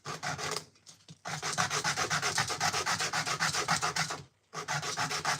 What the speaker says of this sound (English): It's the issue with the hand sanding, we're not having a sanding belt at the moment.